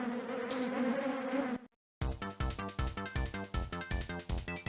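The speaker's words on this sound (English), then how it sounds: "You better press the A button to run from the bees." Bees buzz in the WarioWare: Twisted handheld game, a dense droning hum that cuts to a moment of silence before rhythmic game music kicks in with regular thumping beats.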